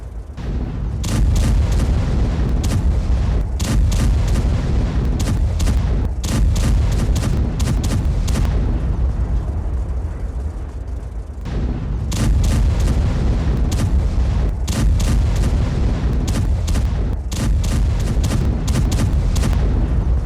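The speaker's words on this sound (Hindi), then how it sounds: "कुर्स्क में जर्मन मर्डर IFV से हमला किया गया" Combat footage of an attack in Kursk by a German Marder infantry fighting vehicle: loud repeated bursts of gunfire and booming blasts crowd together in clusters, with a brief lull in the middle before the volleys resume.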